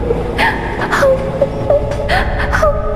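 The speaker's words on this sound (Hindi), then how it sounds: "एक औरत के रोने की आवाज आने लगती है" A woman crying in a Hindi animated horror cartoon, heard from a train coach: wavering whimpering sobs and moans in short bursts, fairly loud and close over a dull background rumble.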